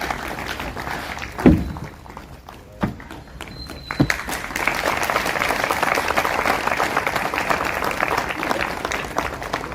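Audience applause for a guest being welcomed at an Eid Milan gathering in an NGO hall, rising after a few isolated thumps and continuing as a steady moderate crowd clapping through the rest.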